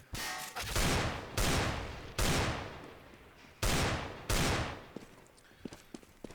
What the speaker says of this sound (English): Some spam shots there by Goobles, trying to see if he can get the man on the staircase